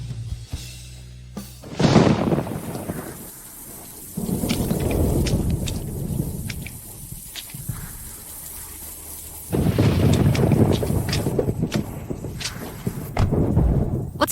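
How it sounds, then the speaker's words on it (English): A thunderstorm with heavy rain on a mountain: loud thunder cracks and rumbles break out in bursts over a steady downpour, with rain intensifying and easing in waves and no voices. "It's not safe to be in the car with such heavy rain on the mountain."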